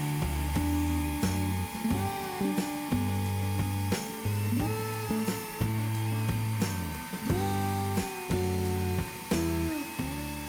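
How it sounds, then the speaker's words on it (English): A router bit cuts a shallow groove into the bottom of a wooden board run along a fence for a taper jig, giving a loud, steady whine that rises and drops in pitch as the wood feeds through in repeated passes. "drop it down onto the bit. And then we're going to run it along the fence, making a shallow cut into the bottom of our base"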